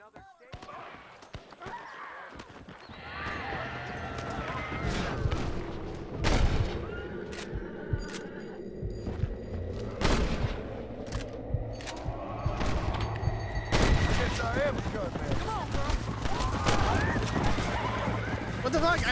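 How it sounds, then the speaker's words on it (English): Gunfire in the Red Dead Redemption video game during a bounty shootout with Walton's gang, sharp shots breaking through over galloping horses, whinnies and background music, with someone talking now and then. "I'm shooting the bad guys."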